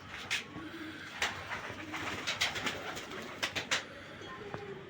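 Male pigeons coo in a loft, a series of short rounded calls at an irregular pace, fairly close and clear over a steady background hiss.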